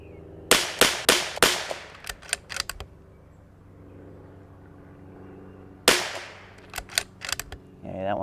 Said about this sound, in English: We're just shooting 5 to 10 rounds of the new ammo through it.